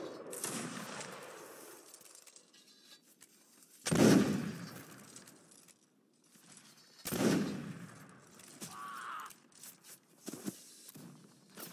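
Musket volleys crack out in a line battle video game, with two loud ragged bursts separated by quieter stretches of distant scattered shots and battlefield rumble.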